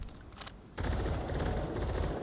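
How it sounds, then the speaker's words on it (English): Gunfire in the VR shooter Onward during a competitive league match: a brief burst of shots, a short gap, then a sustained rapid volley of overlapping fire, heard at moderate distance and fairly faint overall. "More gunshots coming from that was Kolakoko, wasn't it?"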